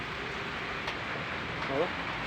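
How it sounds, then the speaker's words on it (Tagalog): Heavy rain pours down in a steady, dense hiss that fills the whole moment without letting up. "Grabing ulan."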